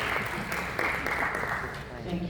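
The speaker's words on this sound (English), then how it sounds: "Please give him a warm applause." Audience applause at an auto show conference, a short burst of steady clapping from a seated crowd, moderately loud and even throughout.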